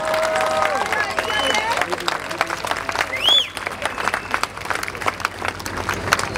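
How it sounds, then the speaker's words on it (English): Audience applause and crowd noise at a live concert show, a steady spread of clapping with cheering and babble mixed in and a voice speaking over it. "Give them a round of applause."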